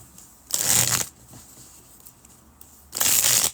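A deck of tarot cards is shuffled in two quick riffling bursts, each about half a second long, with a quiet pause between them; the sound is close and crisp, with no talking.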